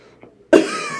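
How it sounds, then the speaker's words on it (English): A single sharp cough bursts out close up after a brief quiet moment, followed by a rough, breathy tail. "Sorry about the coughs."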